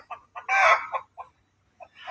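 Hens by a chicken coop on a farm give a few short clucks and one louder squawking call, close and clear with no talk.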